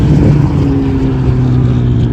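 Cars racing on a track during a Gridlife track day, including a Toyota Supra, a Corvette C8 and a BMW M2, heard as a loud continuous engine roar with wind buffeting the microphone.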